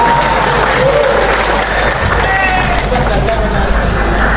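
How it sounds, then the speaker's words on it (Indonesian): A large seated audience applauds at an Indonesian religious gathering, a dense, loud, continuous clatter of clapping that fills the whole stretch. "Tepuk tangan."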